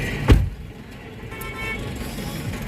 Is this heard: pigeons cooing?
no